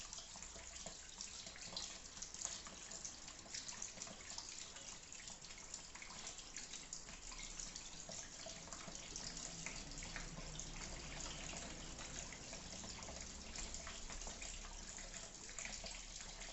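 Water pours steadily out of a Fluval GravelVac gravel cleaner, a faint, continuous splashing flow with no pauses and no talking.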